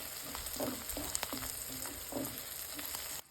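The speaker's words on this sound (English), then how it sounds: "When onions become light golden, add 1 teaspoon of cumin. Sauté on medium heat for 5 minutes." Onions and cumin sauté in a pan over medium heat, giving a soft, steady sizzle with a few light utensil taps. The frying stays faint and continuous throughout, with no talking.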